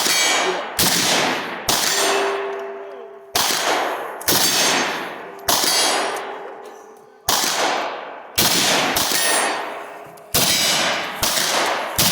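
Rifle bullets strike a steel gong target at an outdoor range, each shot a sharp crack followed by a ringing metallic clang that fades before the next. About ten hits come at a slow, irregular pace.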